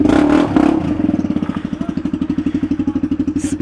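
Honda CB300R with a diffuser exhaust, loud and close, opening with a couple of throttle blips, then settling into a steady, rapid popping idle.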